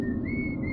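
A single person whistles one sustained, steady high tone that rises slightly early on and then holds, clear and close against a low background rumble, with no speech.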